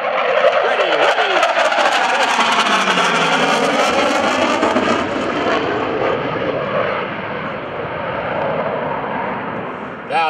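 An F/A-18C Hornet jet comes in to land at a 2011 Boston Portsmouth airshow, its loud engine roar filling the air and slowly fading as it passes, with a voice talking over it.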